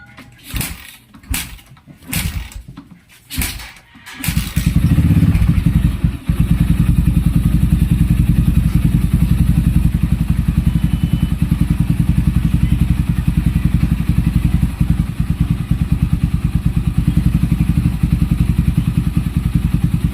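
Kawasaki Barako motorcycle engine, its carb adaptor or manifold holed and velocity cap removed, idling steadily and loud from about five seconds on, after a few opening thumps and clatters.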